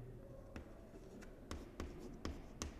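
Marker or chalk strokes on a board while explaining an XOR logic gate, faint and close, a few separate sharp taps and short scratches spaced irregularly over a quiet room hum.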